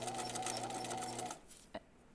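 A sewing machine stitching an L shape along the zipper opening of jeans, a fast steady whirring run for over a second that stops, followed by a single short burst.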